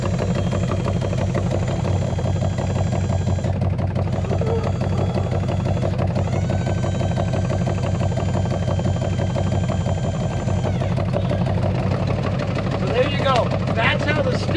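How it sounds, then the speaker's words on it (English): An old C50 tow truck's engine runs at a steady idle close by, a continuous low rumble with some rattling throughout. "I'm going to go fire the truck up and show you how the electric wheel lift works."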